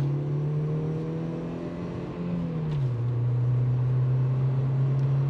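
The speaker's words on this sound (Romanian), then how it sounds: "sunetul de motor aspirat e ceva ce o să ne lipsească foarte mult" A naturally aspirated 1.8-litre four-cylinder Opel Astra engine idling steadily at close range, a low droning hum that dips briefly and then settles back to an even tone.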